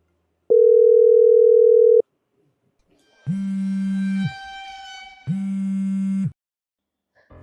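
A telephone call tone: one long steady beep, then two shorter buzzing rings with a pause between them, clear and close, with no talking.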